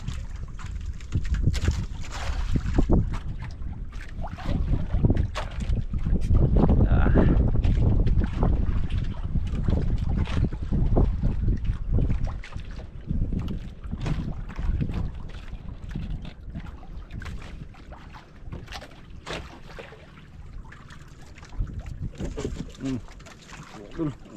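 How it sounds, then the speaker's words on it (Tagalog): Strong wind buffets the microphone with heavy, rumbling gusts that rise and fall continuously, over a backdrop that suggests open water. "Hangin po naman malakas."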